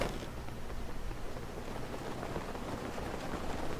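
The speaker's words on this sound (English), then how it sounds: "Oh great, now it's raining." Rain falling in The Legend of Zelda: Breath of the Wild, a soft, steady hiss of rain on surfaces held at low volume throughout, with no speech.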